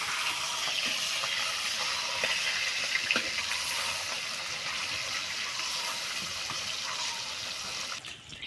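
Flipped rui fish pieces keep frying in hot oil over a clay stove, a continuous hissing sizzle with occasional faint clicks and no talking.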